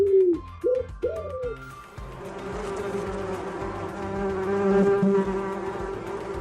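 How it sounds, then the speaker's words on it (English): A bumblebee buzzes in a steady, close droning hum after a few short cooing bird-like calls at the start, the buzz holding and swelling slightly without any talk. "Bumblebee."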